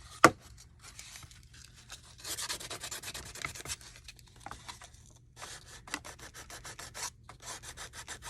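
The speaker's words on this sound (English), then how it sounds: "because you're sanding this part here" Sanding by hand on a handmade wooden toy truck to strip leftover glue, a soft scratchy rubbing in uneven strokes with short pauses, close and fairly quiet, after one sharp tap at the start.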